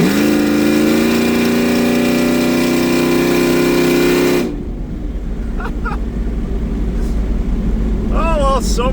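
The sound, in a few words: custom exhaust of Ford SVT Lightning truck while driving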